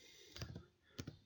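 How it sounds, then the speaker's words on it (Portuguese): Quick bursts of keystrokes on a computer keyboard, two clusters of close, crisp clicks separated by a short pause, with no talking. "Vamos digitar rapidinho aqui."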